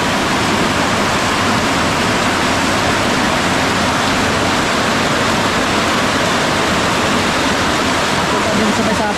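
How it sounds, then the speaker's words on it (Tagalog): Sudden heavy rain pours down on a rural farm with livestock, a dense, unbroken roar of water. It stays loud and constant from start to finish. "Kasi bigla na bumuhog ng ulan."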